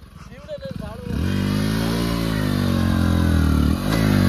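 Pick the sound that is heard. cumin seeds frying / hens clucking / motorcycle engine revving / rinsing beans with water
motorcycle engine revving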